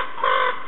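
Chickens at the Lutsk zoo give a short burst of clucking, a bright nasal call that swells briefly in the middle and then eases off, close and alone.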